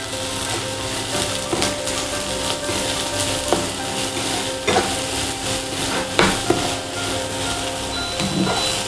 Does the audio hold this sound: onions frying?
yes